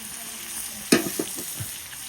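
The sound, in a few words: fish frying in a pan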